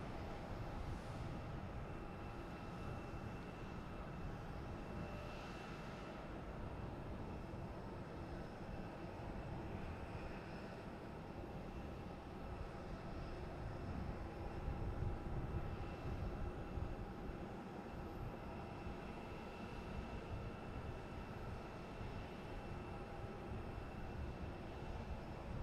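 A JetBlue Airbus A321neo takes off from Boston Logan airport on a winter evening, a faint, distant, continuous jet rumble that holds steady throughout with a slight swell midway.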